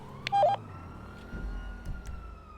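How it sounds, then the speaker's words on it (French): Faint wailing police sirens in the MindCity roleplay video game, heard distantly under low background rumble, with a brief louder electronic tone near the start. "J'entends des sirènes, c'est pour toi."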